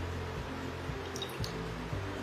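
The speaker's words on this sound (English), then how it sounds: "Into this bowl, I'm going to add in my oil," Oil is poured into a mixing bowl for vegan chocolate cake batter, giving soft liquid drips and splashes with a few gentle plops against a low background hum.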